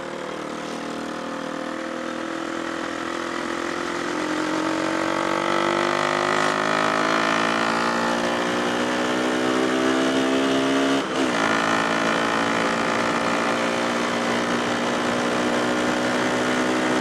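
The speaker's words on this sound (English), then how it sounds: "just a little ride on my bike" A motorcycle engine while riding, a loud continuous drone whose pitch climbs and shifts through gear changes, with a brief dip partway through and no talking.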